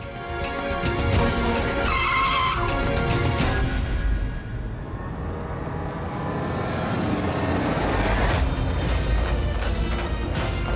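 A car skids to a stop in a TV drama scene, with a loud, close, drawn-out tire squeal over engine roar, then a sudden drop and a short lull before the rumble swells again.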